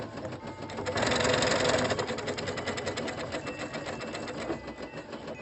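A sewing machine stitches Barbie dress bodice pieces in a rapid, steady mechanical chatter, louder for a moment early on and then running evenly at close range.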